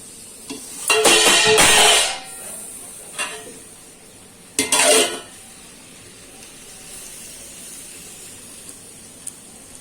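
A fish wrapped in banana leaf is set onto a hot tawa and sizzles in two loud hissing bursts, the first longer and the second shorter, between quieter stretches of faint pan and plate handling.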